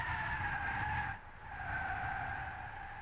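Tires of a Tesla Model S squeal through a drift in the racing game Gran Turismo 6, a sustained screech that briefly dips and then resumes under a low engine hum.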